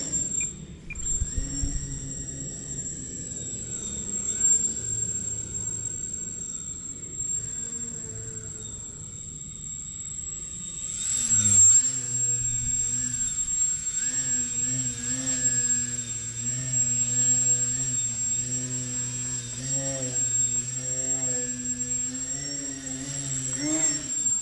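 A small RC foam delta wing flat plane, an electric park flyer running on a 3S pack, buzzes steadily through the air. The motor whine rises and falls in pitch as it maneuvers, with a steady high tone and faint outdoor background throughout.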